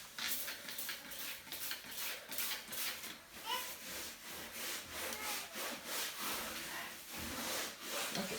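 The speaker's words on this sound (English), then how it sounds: "I'm going to use the vinegar and Dawn solution to scrub off the rest." A fiberglass shower stall being scrubbed with a vinegar and Dawn solution, giving steady rhythmic rubbing strokes close by that continue for several seconds without talk.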